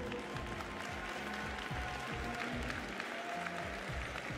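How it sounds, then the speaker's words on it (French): At an agricultural school prize-giving honoring a third-place trophy winner, moderate applause patters from the audience, mixed with sustained tonal sounds like music or voices, at a fairly low level throughout. "Allez, applaudissements s'il vous plaît."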